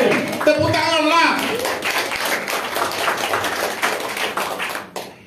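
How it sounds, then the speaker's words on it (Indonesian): A church congregation claps hands in a lively burst, mixed with voices and chatter that carry on after the clapping fades. "Tepuk tanganlah."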